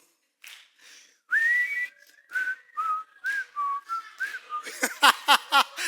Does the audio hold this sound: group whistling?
yes